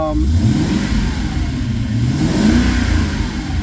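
Triumph Stag engine revving up and falling back close by, a steady mid-pitched mechanical drone whose pitch rises and falls smoothly over a few seconds, with no talk.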